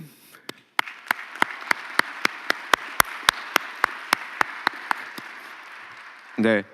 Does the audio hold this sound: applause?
yes